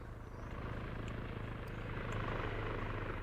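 Helicopter flying in the ArmA 3 video game during a Cold War scenario, a continuous rotor thrum and engine whine at moderate distance, steady and slightly swelling, with no voices.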